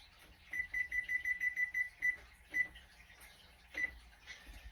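A kitchen timer beeps in a rapid run of about nine short, thin electronic pips, then a few single beeps after pauses, set while sushi rice cooks in a quiet room.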